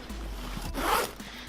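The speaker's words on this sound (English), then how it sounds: "2 zipper pulls, which is really nice. Zippers are really easy" Backpack zipper pulled open in one quick rasping stroke, close and fairly quiet, building to a brief louder burst near the end.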